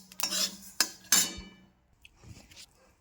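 A spoon scoops roasted sesame seeds and poppy seeds out of a hot pan. A few sharp metal clinks and scrapes come close together, then fade to softer rustling.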